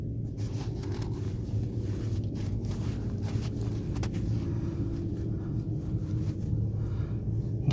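Dwarf race cars at the Dwarf Car Nationals roll around the I-76 Speedway under caution pace, a steady low engine rumble from the pack with no voices.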